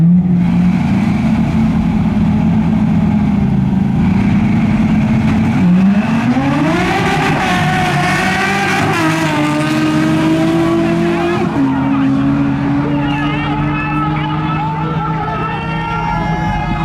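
Drag race cars launching in a motor-to-motor grudge race on a quarter-mile track, loud sustained engine roar with pitch climbing through successive gear shifts, close and powerful throughout.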